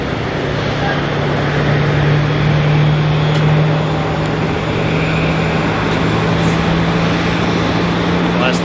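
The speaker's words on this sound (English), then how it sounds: "That's the sound of OYB starting up." Jet engines of an aircraft registered OYB starting up at Auckland Airport, a steady low hum with a rising tone around the middle, heard from a distance over continuous broadband roar and ambient apron noise.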